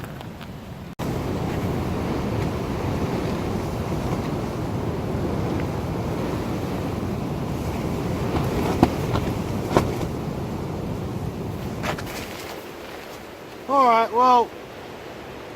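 Heavy wind roars steadily across a campsite at Hanging Rock in the Blue Mountains, a dense buffeting rush against the microphone that drops away near the end, where someone speaks briefly.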